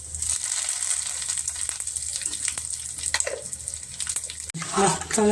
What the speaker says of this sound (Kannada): ನಾನು ಒಗ್ಗರಣೆಗೆ ಸಾಸಿವೆ ಹಾಕ್ತಾಯಿದ್ದೀನಿ